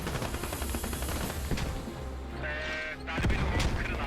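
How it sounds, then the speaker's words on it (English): Mortar rounds bursting during a competitive Squad match, heard as a run of rumbling blasts and sharp cracks with scattered gunfire, a brief lull, then another loud burst near the end. "Mortars exploding right now."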